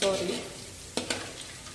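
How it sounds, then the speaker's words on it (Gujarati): Nylon poha (flattened rice) roasting in a pan, a soft sizzle with two quick stirring scrapes near the middle, close and quiet, brief. "ચલો ધીમે ધીમે આપણે નાયલોન પૌવા શકાવવાના છે"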